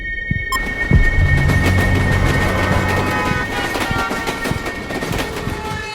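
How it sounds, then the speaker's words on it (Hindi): A train rumbles in the background of a recording, a steady rattling roar with wind-like noise and faint humming tones running throughout the six seconds, with no voices. "एक फिल्म में ऐसे ही किडनैपर ने बैकग्राउंड में ट्रेन का साउंड डाला था"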